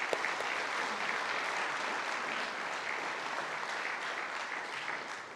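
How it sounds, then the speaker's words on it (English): Steady audience applause at a high school alumni awards ceremony, a dense wash of clapping from a roomful of people, fairly distant and even throughout. "Let's give them a round of applause."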